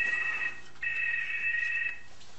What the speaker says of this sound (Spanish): Espérame, mi teléfono.